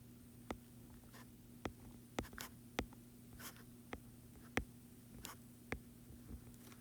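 Pen or pencil writing a word by hand during a phonogram spelling lesson: faint, sparse taps and short strokes spaced about a second apart over a steady low room hum.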